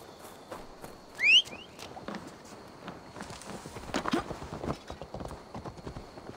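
Steady horse hoof clip-clops on hard ground in Assassin's Creed: Valhalla, several footfalls in a walking rhythm, with a short whistle-like chirp early on and faint ambient background.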